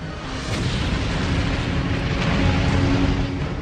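A large explosion rips open the side hull of a Japanese troop transport ship in a WWII naval battle near Santa Cruz, a loud sustained rumbling roar with no speech.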